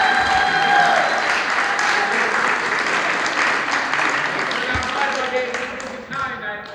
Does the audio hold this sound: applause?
yes